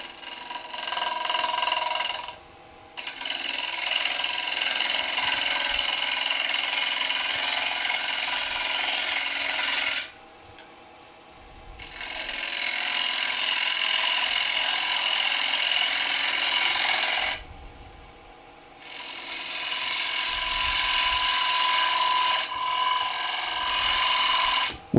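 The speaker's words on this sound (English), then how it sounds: "I'm going to go with a 3/8 bowl gouge. Skim the surface first." A 3/8 bowl gouge skims the surface of a pin-striped wooden bowl spinning on a lathe, making a loud, steady hissing cut in long passes that stop briefly three times.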